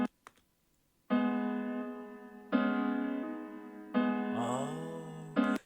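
Sustained synth chord stabs from a beat loop built in FL Studio, three long held chords with a short pitch bend on the last, close and alone, with a couple of brief clicks at the start.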